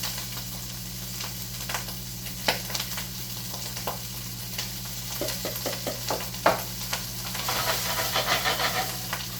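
Rice fries in a hot pan for fried rice, a steady close sizzle with scattered sharp pops and stirring scrapes that grow busier toward the end.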